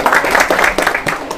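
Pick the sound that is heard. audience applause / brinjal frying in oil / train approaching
audience applause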